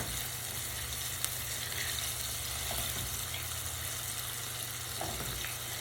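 Chicharrón sizzles and crackles steadily in hot oil, a constant hiss with occasional pops and small stirring sounds from a Teflon-tipped spatula, no voices.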